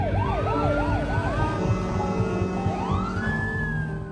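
A fire engine siren from a film scene wails continuously, first in a fast rising and falling yelp and then in slower sweeps, heard at moderate distance over a dense rumble of traffic and background noise.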